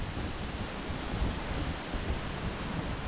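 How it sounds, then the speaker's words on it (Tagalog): Strong sea waves and gusting wind near a shore make a continuous broadband roar, steady and fairly loud with no voices. "Malakas ang alon. Malakas ang amihan."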